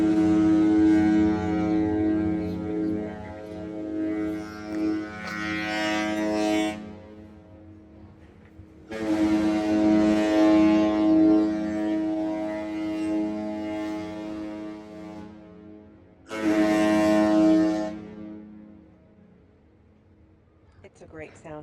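Three long, deep horn blasts from the MSC Seashore cruise ship departing Cozumel, Mexico, each several seconds, rich in low harmonics, loud and resonant with pauses between, plus faint background voices.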